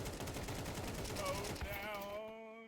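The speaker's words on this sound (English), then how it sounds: "Shotgun's gonna add insult to injury." Rapid shotgun blasts and gunfire ring out in a Counter-Strike esports playoff match, a dense burst of shots that thins and fades into a ringing tail, with a caster's voice faintly under it.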